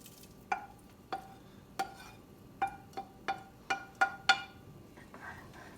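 Sausage gravy bubbles at a light boil after the sausage goes back in, with a steady series of about nine sharp, close pops spaced roughly half a second apart over a quiet background.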